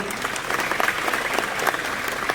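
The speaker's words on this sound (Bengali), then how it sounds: "একটু সৌম্যের জন্য হাততালি।" Dense, steady audience clapping fills a hall at a film premiere at the Academy of Fine Arts as the crowd applauds Soumya; many hands beat at once with no pauses.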